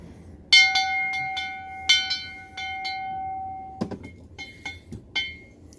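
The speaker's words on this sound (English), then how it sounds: "Made a redneck bell out of it." A homemade bell cut from the top half of a nitrous cylinder is struck several times, each hit giving a bright metallic clang with a long, steady ring that gradually fades, followed by a quicker run of lighter taps.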